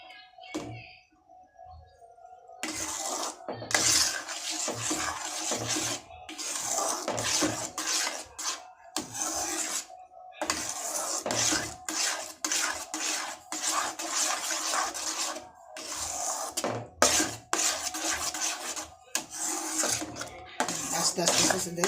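A spoon scrapes and clatters steadily against a pan as a semolina mixture is stirred over a low gas flame on the stove for a Bengali sweet, with repeated metallic scraping in close, busy strokes.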